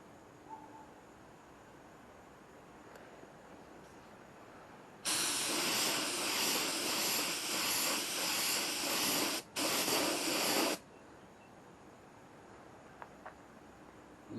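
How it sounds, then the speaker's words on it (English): Quiet room tone, then a loud continuous spray gun hiss painting a Saturn car's rear quarter panel for about five seconds with a brief break midway, followed by quiet again. "I'm spraying the crap out of that"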